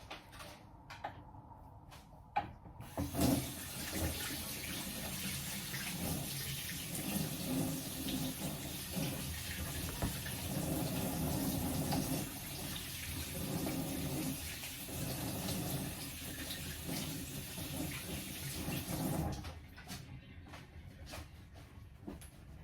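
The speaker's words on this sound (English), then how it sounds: "Just going to give my hands a wash" Tap water runs steadily into a sink for about sixteen seconds while hands are washed after mixing sausage meat for scotch eggs, with a few clunks before the flow starts and after it stops.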